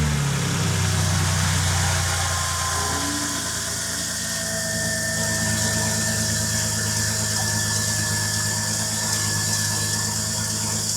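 A car engine runs steadily at idle after being started, a continuous low rumble with a faint rhythmic knock, heard up close with no talking, following a repair made only with zip ties.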